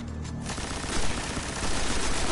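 Sustained gunfire in the video game Destiny, during a Strike on Venus, a dense, continuous rattle of close shots that starts abruptly and keeps going without pause, with no voices over it.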